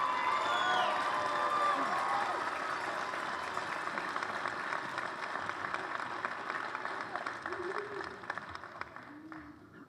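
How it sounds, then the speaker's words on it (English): Audience applause at a high school graduation ceremony, a sustained wash of clapping with some cheering from a crowd, gradually tapering, voices faintly mixed in. "let's give this group a big, big round of applause"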